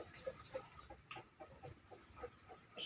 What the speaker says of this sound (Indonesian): Ini saya sudah kasih makan ayam